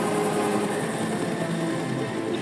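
Helicopter from Final Fantasy VII Rebirth, a steady dense rotor and engine roar filling the whole stretch at constant loudness, close and continuous with no talk.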